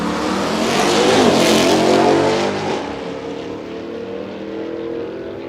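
A Jeep and a Hellcat roar off the line together at a drag strip, engines loud and close, the sound swelling and then fading as the cars pull away.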